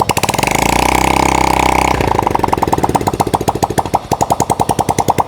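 A motorcycle engine with its cylinder head exposed, checked for oil not reaching the head, is revved hard by throttle: a loud sustained roar drops into a rapid, pulsing idle-like chug, close and without speech.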